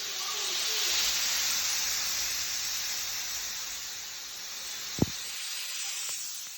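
A pressure cooker in a home kitchen lets out steam in a steady, loud broadband hiss that fills the whole stretch, with one brief sharp click near the end.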